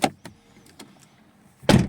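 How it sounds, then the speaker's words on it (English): A Mercedes E Class hybrid's door opens with a few soft latch clicks and mechanical ticks, then a louder thump near the end, close and brief. "Let's just open the door."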